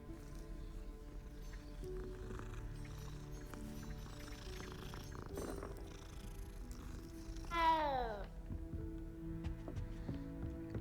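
A cat in the Hogwarts Legacy video game meows as it is petted, with a rising chirpy meow near the end set over steady game music and ambient background sound.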